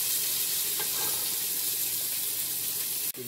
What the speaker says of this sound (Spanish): Estamos sofriendo.